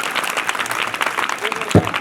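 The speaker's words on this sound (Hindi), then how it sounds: "एक बार जोरदार ताली।" Students at a government girls' school clap in a loud burst of applause, a dense rapid patter under a speaking voice, with one sharp thump near the end.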